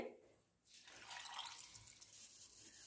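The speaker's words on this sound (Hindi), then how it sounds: "इसके बाद में इसमें आधा ग्लास पानी डालेंगे" Half a glass of water pours steadily into a mixer jar holding grapes and green cardamom after a brief quiet moment, a continuous close splashing rush that lasts to the end.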